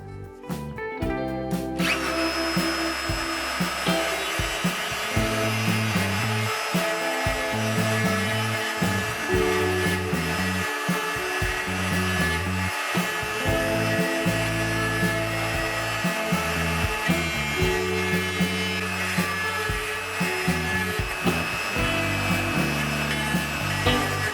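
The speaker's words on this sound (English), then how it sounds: "We're actually able to use the shape that we've routed in as our template now, and the bearing on the cutter just runs on that." Router with a bearing-guided cutter trimming wood along a routed template, a loud continuous whine broken by repeated dips and surges as the cutter bites and moves along the edge.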